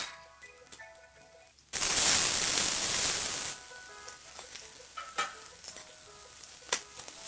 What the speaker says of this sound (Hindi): अच्छे से मिक्स होने के बाद अब इसमें आलू डालेंगे।